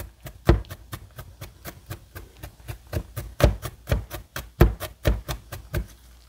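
Garlic being chopped with a knife on a board for a Mexican-style tomato chicken soup: a steady run of sharp, close taps, some hits louder than others, with no talking.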